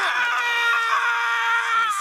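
A person on a Korean comedy stage lets out one sustained, loud, strained scream that holds steady for about two seconds without a break.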